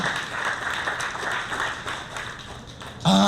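Guests clap at a 50th wedding anniversary celebration, a moderate, slightly uneven patter of applause for about three seconds before a brief loud tone cuts in at the end.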